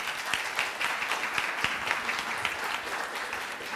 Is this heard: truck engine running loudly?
no